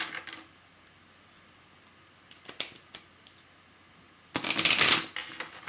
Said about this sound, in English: I wanted to shuffle these like this.